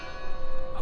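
Bells ring in a grim village setting in the video game Draugen, a sustained, resonant metallic toll with overlapping harmonics that carries clearly for the whole short moment, with no voices over it.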